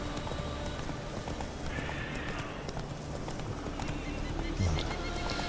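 Galloping hoofbeats of a horse in The Witcher 3: Wild Hunt, a steady clip-clop rhythm running throughout, with a neigh rising near the end over low ambient game sound.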